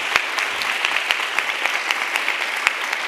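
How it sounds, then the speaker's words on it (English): Applause at a live intergenerational dialogue on climate justice: a room full of people clapping steadily, with sharp individual claps popping out near the listener over a continuous crowd patter. "Big applause."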